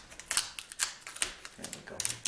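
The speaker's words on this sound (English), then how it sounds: "We're just gonna peel this piece of tape off and have a look at what we're dealing with here." Strip of tape peeled off an electric guitar body during a fret install, heard as a series of close, crackly tearing bursts with small pauses between pulls.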